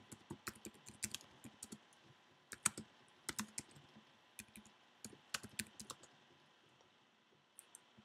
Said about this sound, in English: We'll type that in here.